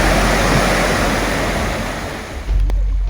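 Broad, steady roar of water flowing at Hundru waterfall on the Subarnarekha river in Jharkhand, loud and continuous with no voices and a brief bump near the end.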